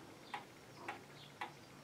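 Pendulum clock in a rural home in Brazópolis, Minas Gerais, Brazil, ticking: three crisp, evenly spaced ticks, close and quiet against a low background hiss, with no voices.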